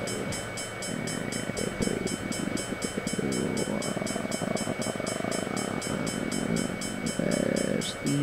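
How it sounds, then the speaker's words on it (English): A train in Train Simulator 2014 rumbles past steadily with rhythmic clattering and a sustained hum, loud and continuous throughout. "I'll have to stop the video here after the train's gone past."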